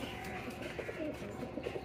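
Pigeons coo softly in a loft, a red pigeon among black ones, with low rolling coos and faint chirps over steady background noise.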